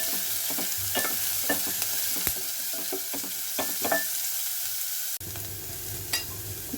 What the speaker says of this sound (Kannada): ಸೊ ನಂತರ ನಾವು ಆನಿಯನ್ ಹಾಕ್ಕೊಳ್ಳೋಣ ಇದು ಸ್ವಲ್ಪ ಫ್ರೈ ಆಗಲಿ